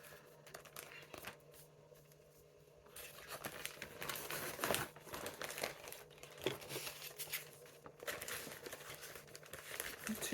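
Crinkling and rustling of a work-in-progress craft project being folded up by hand, a close, irregular scrunching that grows busier after the first few seconds.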